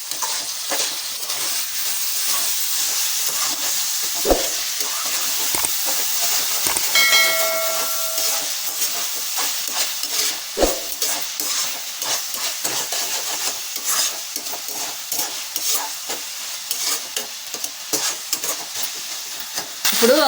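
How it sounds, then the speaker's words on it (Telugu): Tindora and tomato curry sizzles and hisses steadily in a pan while a spoon stirs it, with occasional scraping knocks and a brief faint beep partway through. "ఇప్పుడు మొత్తం కలిపేసుకోవాలి"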